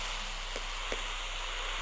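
Rain falling in a Minecraft game, a soft steady hiss with a couple of faint drip-like ticks, fairly quiet and with no talking over it.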